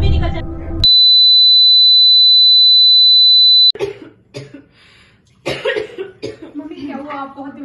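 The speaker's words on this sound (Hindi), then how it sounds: "थोड़ी सी खांसी है बस" A person who seems ill, shown with tuberculosis symptoms, gives a short burst of coughing. A long, steady high beep follows, then voices talking.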